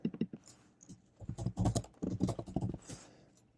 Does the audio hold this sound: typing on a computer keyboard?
yes